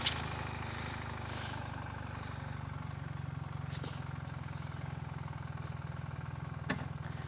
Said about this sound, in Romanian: Pornește-ți motorul să încălzească un pic.